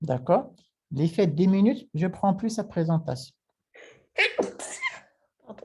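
A sneeze in a French-speaking room, a short burst among close voices, with people talking before and after it.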